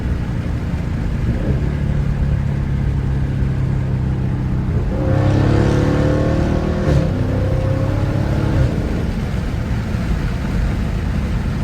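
A Dodge Charger 392 Scat Pack with its stock intake idles with a low rumble, then revs sharply in a short burst before settling back to idle, close and alone.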